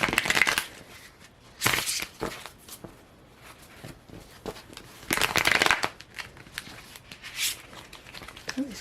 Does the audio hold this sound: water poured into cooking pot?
no